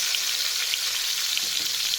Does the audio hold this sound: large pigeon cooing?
no